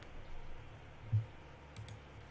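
A single faint click from a computer mouse, brief and close, set against a quiet background hum, with no talking.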